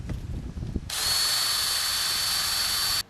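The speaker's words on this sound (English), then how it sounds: "Just hold it in place, drill through one side." A power drill spins up and bores through a pre-drilled guide hole for about two seconds, a loud, steady high whine that stops abruptly, preceded by brief handling clatter.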